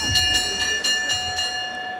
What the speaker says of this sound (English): Go ahead. Ring that bell.